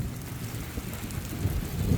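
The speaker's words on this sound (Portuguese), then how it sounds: "A chuva dando uma engrossada" Heavy rain pours steadily during an off-road trail outing with a 1995 Toyota Hilux, a dense, constant hiss with low rumbling drumming on surfaces, fairly loud and unbroken.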